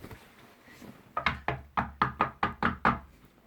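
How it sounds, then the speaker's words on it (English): Someone knocks on a door at night: nine or ten crisp, evenly spaced taps close by, following a quiet pause. "suddenly he heard a tapping sound."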